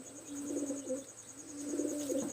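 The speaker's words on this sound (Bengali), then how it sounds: "অনেকগুলো কবুতর আপনাদের দেখালাম" Pigeons coo in a repeated pair of low, rolling calls, close and moderately loud over a steady high-pitched background hum.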